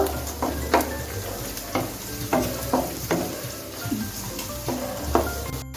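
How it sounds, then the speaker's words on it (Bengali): Onion and cashews frying on medium-low heat in a pan as a spatula stirs, scraping in irregular strokes about every half second over a soft continuous sizzle, close and clear, without speech. "পেঁয়াজটা আমি এক মিনিট ভেজে নিচ্ছি এখন আমার এক মিনিট হয়ে গেছে এখন আমি কাজু গুলে দিয়ে দিচ্ছি"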